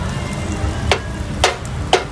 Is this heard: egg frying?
yes